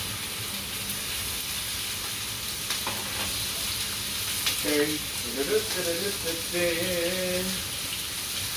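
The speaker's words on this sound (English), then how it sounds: "I just added a little bit of olive oil to the pan, and now I'm getting ready to add the potatoes to it" Potatoes sizzling in olive oil in a pan, a steady hiss of frying with brief bubbling and stirring bursts rising midway, heard close with no talk.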